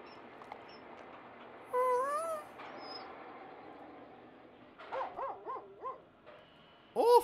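A dog barks a few times in the puzzle video game Infinifactory, short bursts at moderate loudness over a steady game background hum.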